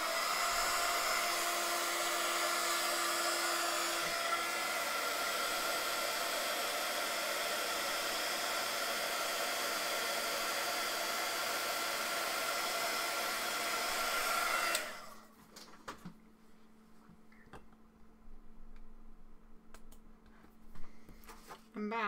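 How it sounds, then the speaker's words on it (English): Heat embossing gun blowing hot air during a craft session, a loud, steady whooshing hiss with a faint whine that runs for about fifteen seconds, then cuts off, leaving quiet room sounds and faint speech. "I'm going to mute you again anyway because the embossing gun is not very fun"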